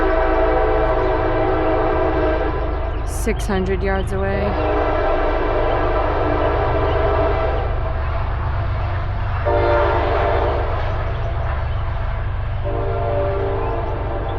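A freight train passes the Berkley crossing on the South Coast Rail line about 600 yards from a house at night, sounding a few loud horn blasts over a long, steady rumble of rolling cars while someone speaks.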